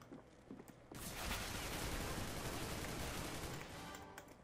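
Continuous burst of rapid gunfire in the video game CS:GO on the Wildfire mission, a dense, loud stretch of overlapping shots that builds after a second and runs steadily before easing near the end.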